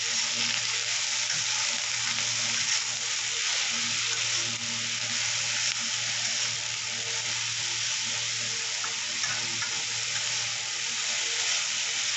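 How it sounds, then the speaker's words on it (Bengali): Potatoes and onions fry in a pan with a steady, close sizzle that runs unbroken for the whole stretch, with no talk over it. "আলু পেঁয়াজটা মোটামুটি ভাজা ভাজা হয়ে গেছে"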